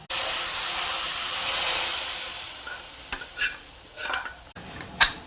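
Tempering sizzles hard in a hot pan as turmeric and asafoetida go in for tamarind pulihora, a loud steady hiss that fades while a spoon stirs and scrapes, with a sharp clink near the end.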